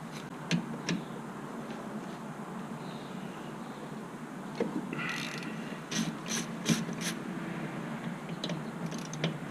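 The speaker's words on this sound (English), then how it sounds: "we're going to loosen and remove both the caliper bolts, and these are on pretty tight" A ratchet with an 8mm hex socket works on tight rear brake caliper bolts of a Harley touring motorcycle, giving sparse sharp clicks and short rapid ticking bursts over a steady background hiss.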